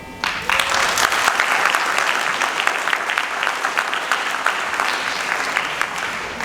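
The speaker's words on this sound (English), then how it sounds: "So let's applaud her hard work." A graduation audience applauds a student's hard work, a sustained patter of many hands with sharp individual claps standing out, steady and moderately loud from start to finish.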